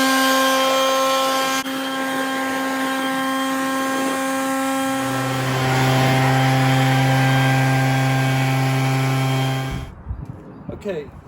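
A big leaf blower drying a freshly washed truck whines with a strong steady tonal drone, rising in pitch and intensity midway, then cuts off abruptly near the end.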